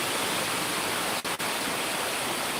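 Floodwater overflowing during heavy monsoon rain at Amboli in Konkan, a steady broadband rush of pouring water, close and loud, briefly cut twice.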